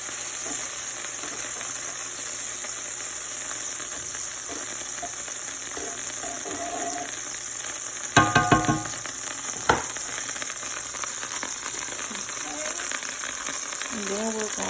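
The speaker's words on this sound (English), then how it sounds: "we're just letting the butter melt down" Butter melts in a pan still holding leftover seasoning, giving a soft, continuous sizzle and frying hiss, with a few brief clanks of a spoon and some quiet speech over it.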